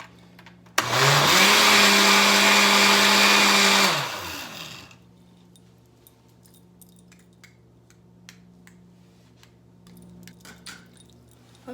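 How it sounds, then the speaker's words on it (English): A blender runs at full power on frozen strawberries and flaxseed for about three seconds, then winds down and stops, leaving a quiet room with a few faint clinks. "I blend the flaxseed first, and this blender is very good"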